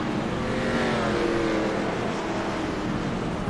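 A race car engine in the iRacing sim, heard in a Winston throwback series race, drones steadily at moderate loudness with a constant whining roar and no voices.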